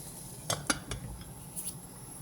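A lid is set onto a pot of Filipino fish soup, tinolang isda, giving a few sharp metallic clinks close up, then faint rattles over a quiet background.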